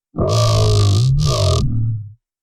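A loud, distorted bass synth note buzzes for about two seconds with a brief gap in its upper grit, then stops abruptly with a low rumble underneath.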